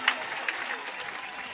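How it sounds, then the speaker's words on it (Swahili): Applause from an audience at a girls' school event in Migori County, greeting grade 10 students; a soft, steady patter of clapping with a few sharper claps near the start, heard without speech. "Makofi kwao."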